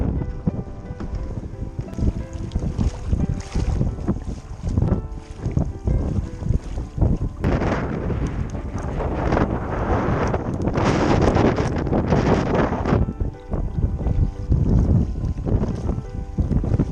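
A small boat speeds across open water off New Zealand's far north, with a constant roar of motor, wind buffeting and hull slapping, loud and close throughout.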